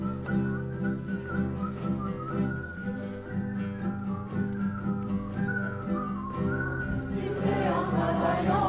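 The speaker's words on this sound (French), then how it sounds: "Siffler en travaillant, redonne le cœur en joie." A tune is whistled while working during a stage performance by a theatre troupe, a steady melodic line of sustained notes lasting the whole stretch at moderate loudness, with a fuller burst of sound near the end.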